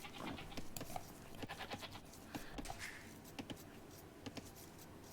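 Goats bleat in an Age of Empires match, short nasal calls scattered among busy game clicks and unit noises. The calls sit at a moderate level and rise above the clutter only now and then.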